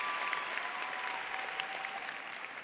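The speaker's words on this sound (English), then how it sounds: "Let's give them a round of applause." Applause from a sizable convocation ceremony audience for a brass ensemble, a steady, even patter of many hands clapping, moderately loud and continuous.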